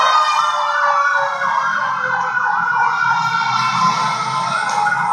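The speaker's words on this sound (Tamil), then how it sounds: "ஆம்புலன்ஸ்லாம் பயங்கரமாக போயிட்டு இருக்கு" An ambulance siren wails continuously as it passes along a road, loud and near with a rising and falling electronic tone over engine rumble from traffic, with no talking.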